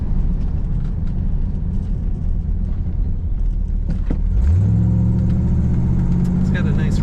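A 1981 Chevrolet Corvette coupe with an automatic transmission rumbles steadily from inside the cabin while driving, its low engine drone rising slightly as it accelerates.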